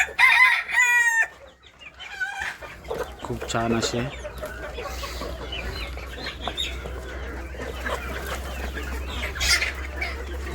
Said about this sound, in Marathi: खूप चांगल्या प्रकारचा हा कोंबडा पाहू शकता